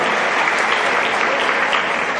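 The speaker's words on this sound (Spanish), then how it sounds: "Denle un aplauso porque Cristo fue quien le trajo." Dense, loud applause from a church congregation at a Spanish-language holy hour service, sustained and even for the full length with no gaps.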